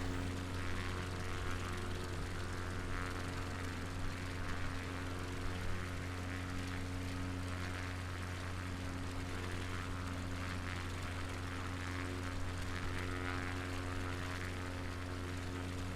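A propeller plane flies along the UK coast near Weymouth and Portland Bill. Its engine gives a steady, loud, droning hum with a constant pitch that continues unbroken throughout, with no voices.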